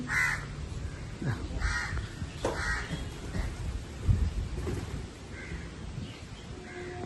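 Crows caw several times in a home yard where grain is scattered, moderately close, the calls spaced apart over a soft outdoor background with no talking.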